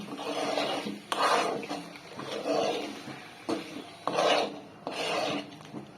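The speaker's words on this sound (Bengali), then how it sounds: "আবারও ভালো করে নেড়ে চেড়ে নেব" A spoon scrapes and rubs through chicken stew with carrot in a metal pan, giving several separate rasping strokes in irregular bursts, close and fairly quiet, with no talking.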